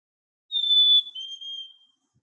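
A chickadee's territorial song: two clear, pure whistled notes, the first higher and the second slightly lower, sounding close and alone in an otherwise silent setting.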